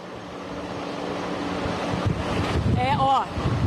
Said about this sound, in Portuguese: Aí é só a gente começar a falar que o vento começa a castigar novamente